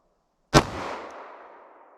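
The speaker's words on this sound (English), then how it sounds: "Let's see how close I can get to 1135 feet per second from my 4-inch Ruger Security 9." A single loud gunshot from a 4-inch Ruger Security 9 revolver firing 9mm at close range gives a sharp crack followed by a fading echo.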